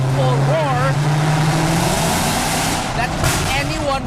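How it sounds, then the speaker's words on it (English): A Mercedes-Benz C63 AMG (C204) rumbles with a loud, throaty engine and exhaust drone, its pitch rising and falling as the car revs, while a person talks over it. "It gives you an incredibly throaty, rude, and disrespectful roar"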